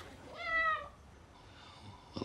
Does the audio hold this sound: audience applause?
no